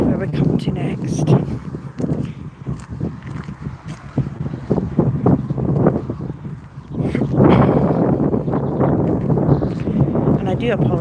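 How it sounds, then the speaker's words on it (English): Gusty outdoor wind buffets the microphone on a walk in Scotland, a steady low rumble with rougher bursts that swell louder in the second half, with some indistinct voice underneath. "And I do apologise about the wind."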